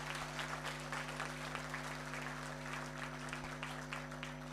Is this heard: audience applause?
yes